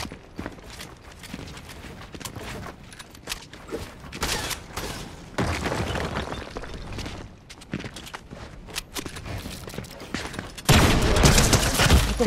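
Gunfire rings out in a video game, bursts of rapid shots scattered irregularly and loud, with a denser burst of fire near the end.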